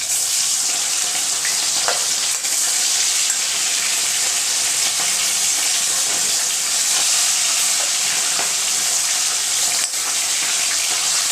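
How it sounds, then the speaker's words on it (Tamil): Catfish pieces fry in hot oil in a pan for Malaysian fish sambal, giving a steady loud crackling sizzle throughout with a few faint clinks of utensils and no talking. "2 பக்கமும் நல்லா பொரிஞ்சு வரட்டும்"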